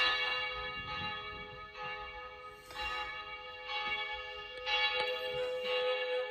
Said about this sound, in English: Only now, we've got some church bells.